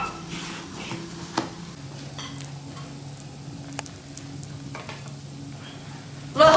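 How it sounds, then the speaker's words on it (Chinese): Pumpkin flatbread cooks over low heat in a flat pan greased with a little oil, giving a soft, steady sizzle throughout, with a brief clatter and a louder knock at the very end. "一面煎黄，翻过来煎另一面。"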